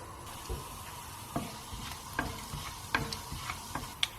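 Cumin seeds sizzle in hot mustard oil, a soft crackle with scattered sharp pops and ticks, close and fairly quiet, with no talk.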